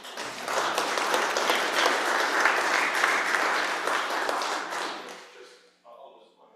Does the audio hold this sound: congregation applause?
yes